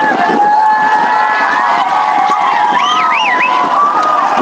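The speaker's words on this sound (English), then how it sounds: "You can start hearing the crowd in the background." Crowd gathered outdoors for the 2008 solar eclipse in Novosibirsk, a loud, continuous murmur of many voices with rising shouts and excited calls.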